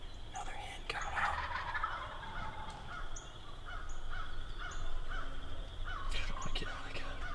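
Wild turkeys calling across an open spring field in Iowa, with hens and jakes giving repeated clucks, yelps and gobbles at a moderate distance over a steady outdoor background hiss.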